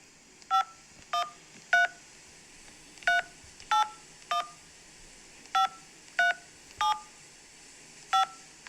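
A telephone dialing a hotline number, with eleven crisp two-tone keypad beeps in an uneven rhythm, each short and clear over a faint background hiss.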